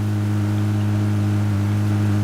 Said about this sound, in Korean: 다른 차 소리 들린다.